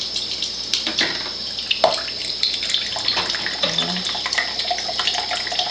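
Acid water runs from a KYK Melody water ionizer, a close, continuous splashing stream with uneven spurts and small knocks, and a voice says a single word over it.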